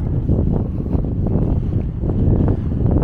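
Gusty wind buffets the microphone on a mountain height under 700 metres in Norway, in low, rumbling bursts, a steady blustery roar throughout.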